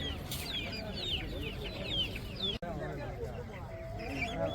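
Chicks cluck and chirp at an outdoor market among a busy crowd, with people chattering throughout and a brief dropout midway.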